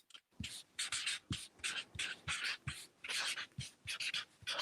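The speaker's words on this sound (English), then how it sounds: "Hearing some more squeaky pens again this week." Rapid bursts of scratchy, hissing pen strokes on paper, close and fairly quiet, repeating in quick scribbling patterns without speech.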